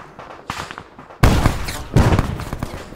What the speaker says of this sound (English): Throw the frag out as well.